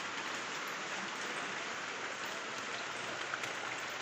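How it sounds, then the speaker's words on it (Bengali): Heavy rain pours steadily during a storm, a dense, continuous hiss of water drumming on surfaces close by, unbroken from start to finish with no voices. "এখনো বৃষ্টি আসছে।"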